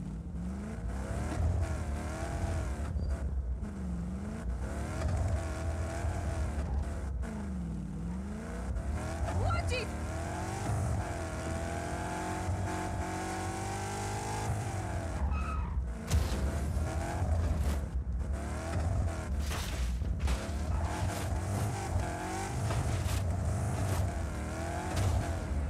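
A fast car in the video game Just Cause 4 drives with a continuous roaring engine that revs up and down, with tire noise and skids throughout, while someone talks over the gameplay.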